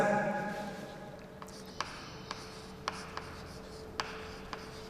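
Marker or chalk strokes on a board during a lecture on matrices, heard as a handful of short, sparse taps and scrapes over a quiet room hum, with no voice.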